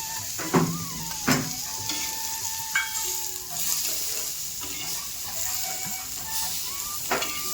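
Grated coconut frying in a pan for a traditional village-style vegetable dish, a steady close sizzle broken by several sharp scraping stirs of the spoon.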